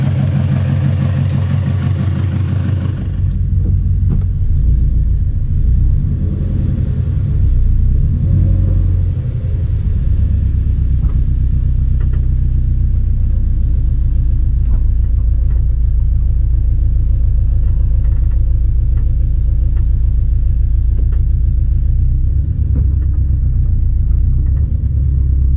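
A Toyota GR86 fitted with a new over pipe and front pipe drones from inside the cabin with the windows up once warm, a deep, steady exhaust rumble with mild swells as it drives, loud and close, with no talking.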